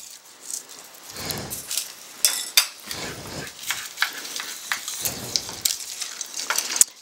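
Pasta shell filling with onions being mixed in a bowl, giving irregular close scrapes and clinks of a utensil against the dish with soft wet stirring, no voices.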